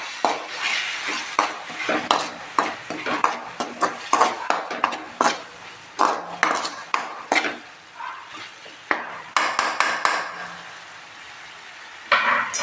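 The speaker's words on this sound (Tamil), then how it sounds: "கருவாடு ஆட் பண்ணி வச்சு இப்போ நல்லா வதக்கிக்கலாம்" Dried fish is sautéed for a tangy thokku in a metal pan. A ladle makes repeated sharp scrapes and clanks against the pan in an uneven rhythm over a light sizzle, close up.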